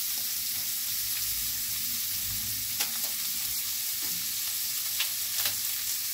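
Onions and tomatoes stir-fry in a pan with a steady, fairly quiet sizzle. A few soft scrapes of stirring break through now and then, and no one speaks.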